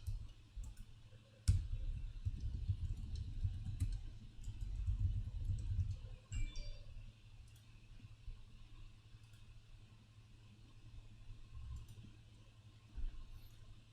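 Computer typing and mouse clicking: a few faint, scattered clicks and keystrokes over a low, steady background hum.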